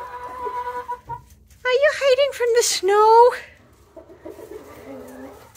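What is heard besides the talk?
chickens clucking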